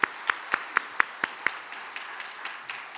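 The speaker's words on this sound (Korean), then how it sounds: "우리 다시 한번 박수하겠습니다." A church congregation claps in a steady, even rhythm, sharp individual claps giving way to looser, softer scattered applause; moderately close, no talking.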